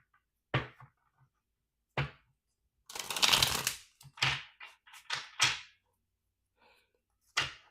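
Tarot cards being shuffled by hand in a quiet room, several short crisp riffling bursts and slaps separated by pauses, close and fairly soft.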